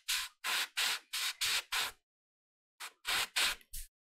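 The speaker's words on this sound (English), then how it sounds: "Spraying in a way to catch the bandage folds" Short hissing bursts of airbrush paint spray come in quick succession, about six, then a pause before three or four more, close and steady, while painting a Baron Mordo miniature.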